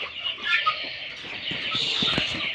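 Two-month-old chickens cluck and chirp softly at close range in short, repeated calls.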